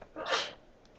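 A single short sneeze in a classroom, sharp and fairly close, bursting out and fading within about half a second with no talk over it.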